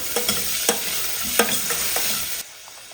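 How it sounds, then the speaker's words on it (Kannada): Chopped onion fries in a pan with a continuous sizzle, punctuated by several sharp scrapes of stirring, before the sound cuts away abruptly near the end. "ಈರುಳ್ಳಿ ಹಾಕ್ಕೊಂಬಿಟ್ಟು ಒಂದೇ ಒಂದು ನಿಮಿಷ ಸ್ವಲ್ಪ ಚೆನ್ನಾಗಿ ಹುರ್ಕೊಬೇಕು"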